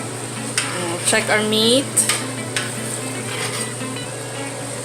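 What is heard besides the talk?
beef and chayote simmering in a pot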